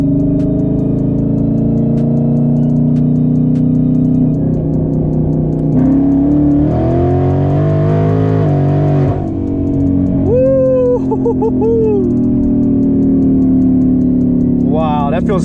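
A twin turbo Mustang drones at steady revs with rolling anti-lag engaged, its heavy, distorted exhaust tone building and fluttering under someone talking over it throughout.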